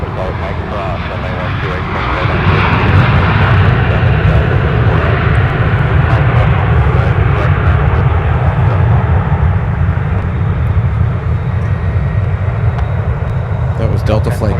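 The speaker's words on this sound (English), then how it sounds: "That was Delta Flight 2078 in from San Francisco on 737-900" A Delta Boeing 737-900 jet at Minneapolis–St Paul airport in winter, its engines roaring steadily and growing louder after a couple of seconds, heard from a distance while people talk over it.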